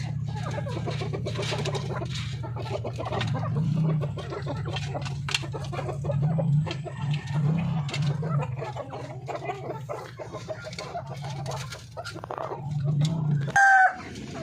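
Darag native chickens in a backyard farm cluck and chatter continuously up close, with a rooster crowing briefly near the end and a faint voice in the background.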